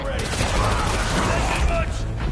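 Dense, continuous gunfire in the Marvel's Spider-Man 2 video game, a loud rattling fusillade that runs through the whole short moment with a voice speaking over it.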